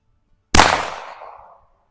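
A single sharp shot from a 1948 Colt Woodsman .22 LR pistol fired one-handed outdoors, a crisp close crack followed by a short fading echo, with no talk.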